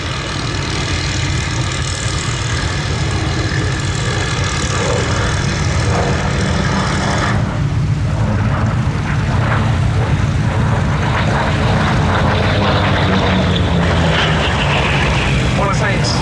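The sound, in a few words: Grumman Bearcat radial engine aircraft flying at air show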